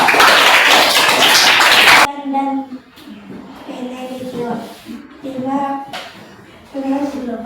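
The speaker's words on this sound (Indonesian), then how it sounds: "tepuk tangan untuk kelompok 2" A classroom group bursts into loud applause for a few seconds, then the clapping stops abruptly and a voice speaks.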